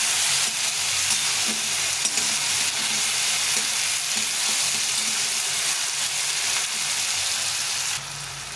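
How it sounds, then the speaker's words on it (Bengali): A large cut tomato fries in a pan for a cauliflower and chhana curry, with a loud, continuous sizzle that holds steady for about eight seconds before dropping slightly at the end. "টমেটোটা ভেজে নিয়েছি"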